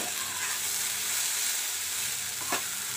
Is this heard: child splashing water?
no